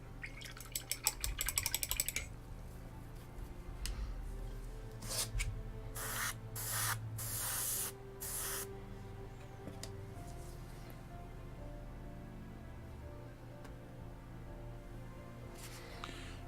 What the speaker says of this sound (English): Turn off my compressor again.